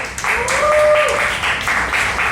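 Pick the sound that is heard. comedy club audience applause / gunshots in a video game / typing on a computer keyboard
comedy club audience applause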